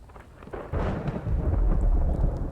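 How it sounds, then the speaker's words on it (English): Heavy rain falls in the video game The Infected, a steady hiss with a deep rumbling swell like distant thunder that grows louder partway through and then stays full and constant. "Oh, listen to that rain."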